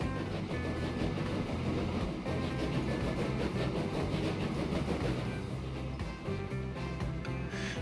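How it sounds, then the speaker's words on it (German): A steam train rolls along in the Transport Fever video game, its steady, dense mechanical rumble with faint rhythmic clatter continuing throughout, with no talking. "auch der Rauch und die Geräuschkulisse, abhängig von der aktuellen Leistung, die der Zug erbringt"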